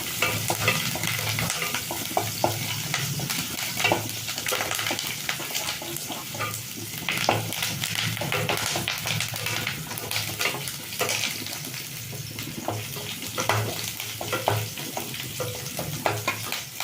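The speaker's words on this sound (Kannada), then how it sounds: "ಹಸಿಮೆಣಸಿನ್ಕಾಯಿ, ಶುಂಠಿ ಮತ್ತು ಬೆಳ್ಳುಳ್ಳಿ ಚಚ್ಚಿಟ್ಕೊಂಡಿದ್ದು ಹಾಕ್ತಾಯಿದ್ದೀನಿ. ಚೆಂದ ಫ್ರೈ ಆಗಲಿ." Crushed green chilli, ginger and garlic fry in hot oil with a steady, dense sizzle, broken by frequent scraping stir strokes over nearly seventeen seconds, close and without voices.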